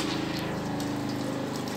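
Water pours steadily into a basin while a grommet curtain is rinsed by hand in plenty of water, a continuous close gushing rush with a faint rhythmic pumping texture and no talking.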